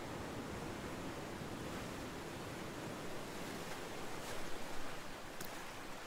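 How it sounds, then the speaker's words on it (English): Lake Michigan waves breaking against the shore, a steady broad wash of surf with a slight swell near the end, heard alone without voices. "the sound of Lake Michigan's waves crashing against the shore"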